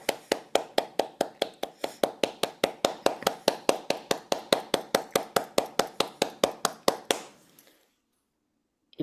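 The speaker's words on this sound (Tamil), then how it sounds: "அவருடைய முயற்சியை பாராட்டி நாங்கள் 30 வினாடிகள் கைதட்டுவோம்." Steady, even claps from a single pair of hands on a meditation-themed Zoom call, about three per second, close and clear, running for roughly seven seconds before stopping abruptly into silence.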